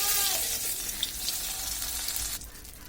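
Chapa shutki bora fritters sizzle steadily in hot oil in a pan, a dense close crackling hiss with a brief stirring scrape near the start and a slight dip toward the end.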